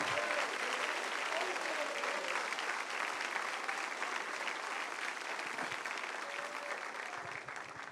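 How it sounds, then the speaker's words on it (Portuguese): Church congregation applauding during a Quadrangular service, steady dense clapping that fills the room for the whole stretch, with voices mixed faintly underneath. "Se vai aplaudir, bata a palma com vontade."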